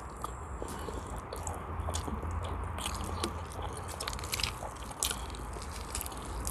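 Someone eats a smoked chicken leg by hand, giving close, quiet wet chewing, biting and squishing sounds with small crackles over a soft, steady background.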